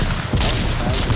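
Grenades going off in the Onward VR multiplayer shooter during a 5v5 playoff match: a couple of sharp, close bursts over a noisy, rumbling backdrop, heard within about a second.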